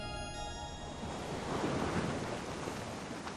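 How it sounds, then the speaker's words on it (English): Wind and breaking waves at sea during a winter gale off Cape Hatteras, North Carolina, a dense, continuous rush of surf and gusting wind that surges slightly midway, with no voices. "Sorcerer is now in the midst of the forecasted winter gale."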